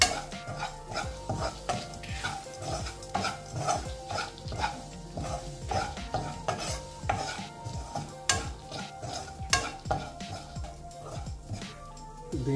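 Mustard seeds and asafoetida sizzle in hot oil under a run of repeated clinks and scrapes of a utensil against the pan, uneven and close, with a faint low hum behind.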